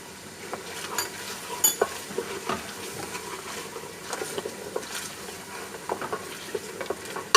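Mutton frying with beetroot in a pan, a steady crackling sizzle broken by scraping stirs and soft clinks of a spoon, close and fairly quiet throughout.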